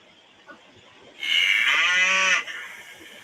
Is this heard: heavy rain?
no